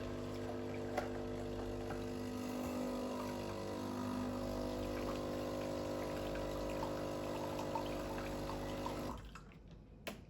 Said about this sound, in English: Press the double button, that'll give you about 100 mils of hot water.